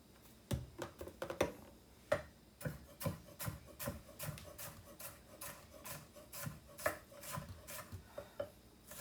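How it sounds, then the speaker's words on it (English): Green peppers are rough chopped with a knife on a cutting board, a quick uneven run of light close taps and scrapes, fairly faint and with no talking. "I'm just rough chopping these."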